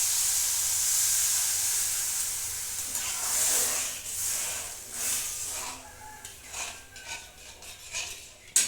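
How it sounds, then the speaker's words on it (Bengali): Milk poured into toasted semolina in a hot pan gives a steady sizzling hiss, then scraping and clinking of a utensil against the pan as the mixture is stirred, close by with no talking. "এখন আমি এতে ওই একই বাটির 2 বাটি দুধ দেবো।"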